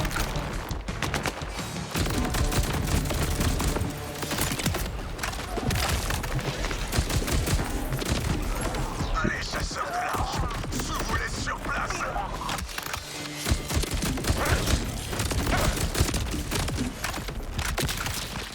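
Dense, loud gunfire and explosions from the video game Borderlands 4, with rapid bursts and booms running continuously throughout the whole stretch, in close and heavy layers.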